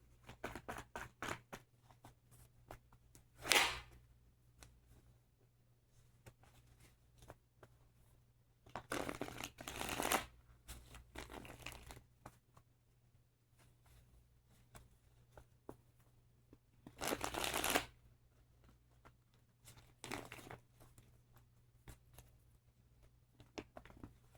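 Tarot cards being shuffled by hand in a quiet room, soft papery riffles and slides arriving in short bursts with long near-silent pauses between them.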